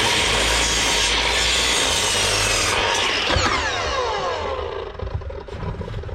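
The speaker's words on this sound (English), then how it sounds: "This way I'm cutting them at the same time, both plates, so I know the number's good." A saw cuts through two stacked wooden wall plates at once for a bungalow build, a loud, continuous grinding cut that rises in pitch near the end, then trails off into rougher, fading rasping.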